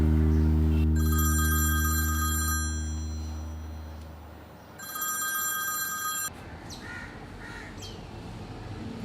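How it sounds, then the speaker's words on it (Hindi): A telephone bell rings in two loud bursts, a long ring followed by a shorter one after a pause, with a low hum underneath and no talking. "पता नहीं क्यों बार बार फोन कर रही है।"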